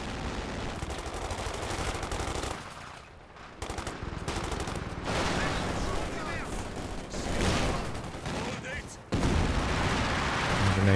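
Sustained gunfire in Company of Heroes 2, a 3v3 match on La Gleize, with rapid machine-gun bursts and rifle shots from a building firing on shock troops, loud and continuous with brief lulls.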